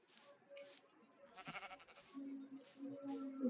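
Quiet synthetic Minecraft sheep bleats repeat several times in short bursts, with a faint voice murmuring underneath.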